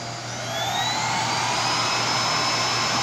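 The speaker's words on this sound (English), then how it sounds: "Press this and the vacuum starts up." A Roidmi 2-in-1 stick vacuum switches on and settles into a loud, steady high-pitched whine with a constant motor hum.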